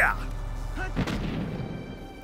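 A single heavy tank cannon boom from the video game Valkyria Chronicles, sharp and loud, followed by a rumbling decay over a low steady background hum.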